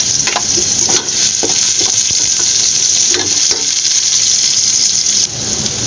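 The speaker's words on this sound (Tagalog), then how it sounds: "Lalagay ko na siyempre yung sibuyas. luya. Lagyan ko na rin yung sili." Onion, ginger and chili sautéing in hot oil with golden-browned garlic, a loud, dense, continuous sizzle with scattered scraping and clacking stirring strokes close by, no voices present.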